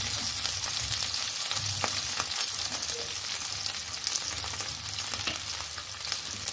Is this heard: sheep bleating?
no